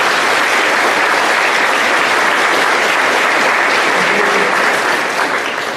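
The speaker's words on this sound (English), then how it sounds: "Let's give them one more big round of applause" Sustained, dense applause from a school awards ceremony audience fills the room steadily and loudly throughout, tapering slightly at the very end, with no speech over it.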